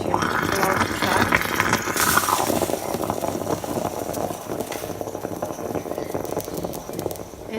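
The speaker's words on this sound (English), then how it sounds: "the coffee started to boil. hear it." A steady gurgling, bubbling rumble runs throughout, loud and close, like liquid sputtering up through a stovetop espresso pot.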